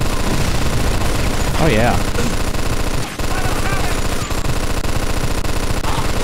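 A mounted machine gun in Mafia 2 fires a loud, unbroken rapid stream for several seconds. A player speaks briefly over the roar.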